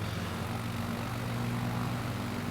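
A propeller aircraft engine in Microsoft Flight Simulator 2020 holds a loud, steady droning hum with a low buzzing tone, close and continuous throughout with no other sounds.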